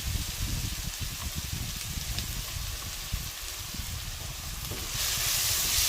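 Curry leaves, green chillies and onions sauté in hot oil with asafoetida in a village kitchen, a continuous close sizzle with occasional stirring scrapes, growing slightly louder near the end.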